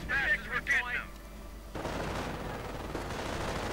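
Company of Heroes battle with rifle gunfire and mortar blasts making a continuous rough crackle and rumble, at moderate level, following a brief voice at the start.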